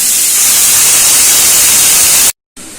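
Water rinsed from a mixer bowl pours into masala frying in oil, producing a loud, steady, broad hiss that cuts out abruptly for a moment near the end before resuming.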